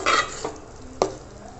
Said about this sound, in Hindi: ये हमने सारे झींगे का डाल दिया है, अच्छे से मिक्स कर लेंगे